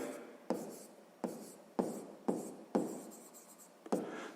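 Pen or pencil writing out a sixth-grade maths solution, a series of about seven close, scratchy strokes in an uneven rhythm, each sharp at the start and trailing off.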